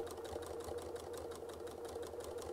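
A sewing machine runs steadily, stitching a quilted kit project in a fast, even, continuous whir with rhythmic needle clatter throughout, close and alone with no talking.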